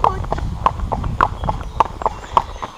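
Horse hooves clip-clop in a steady, close rhythm on an outdoor countryside ride heading toward a lake, with faint voices and general ambient noise running underneath.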